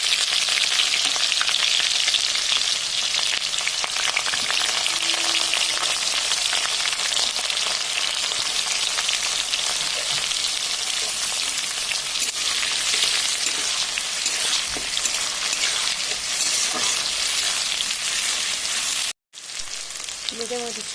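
Chopped onion frying in hot oil with cumin seeds and dried red chilli, a continuous dense sizzle like rain with occasional stirring scrapes, steady throughout with one brief dropout near the end.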